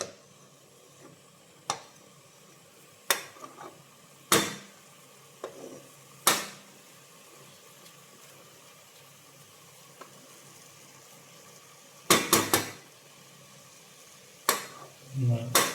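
Mushrooms for a pressure-cooker mushroom biryani cook in a pan without added water, with a faint low sizzle broken by several sharp, separate clinks and scrapes from stirring.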